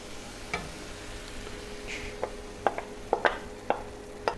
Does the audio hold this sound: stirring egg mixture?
yes